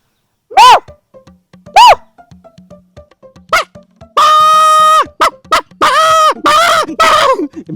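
A person imitates a cat with several drawn-out meows, some short and some long, loud and close, separated by brief pauses.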